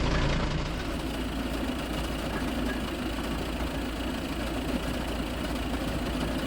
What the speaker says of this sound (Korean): 플라일 소리가 심하게 나네요.